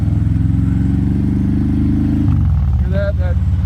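Harley-Davidson Low Rider ST with its stock exhaust pipe idling in a deep, loud, rhythmic burble, then the engine note shifts as it is blipped, with someone talking over the sound.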